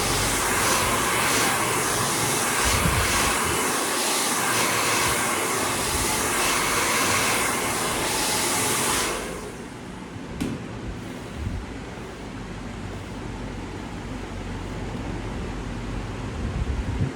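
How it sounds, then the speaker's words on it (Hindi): A hair dryer blows hair during a styling session, a loud, steady broadband whoosh that runs close to the mic for about nine seconds, then cuts down to a quieter airy hum with faint handling bumps. "ये देखो, ये है हमारा proper neat and clean blow dryer."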